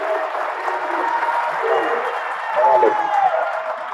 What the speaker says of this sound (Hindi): सब हाथ उठाकर दोनों हाथों से ताली बजाइए